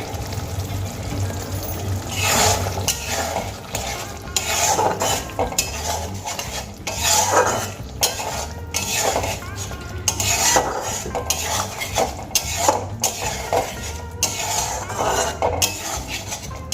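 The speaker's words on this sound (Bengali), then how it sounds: "চিনি দিয়ে আমি খুব ভালো করে নাড়িয়ে চাড়িয়ে নিয়েছি" A spoon stirring mustard-based shorshe potol curry in a metal pot after sugar goes in, with repeated scraping and clinking strokes against the pot, a soft bubbling sizzle underneath, no voices.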